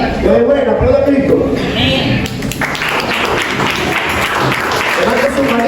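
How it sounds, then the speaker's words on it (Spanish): A church congregation applauds Christ during a prophet's sermon, clapping loudly across the room while a voice and music carry on alongside. "aplauda a Cristo"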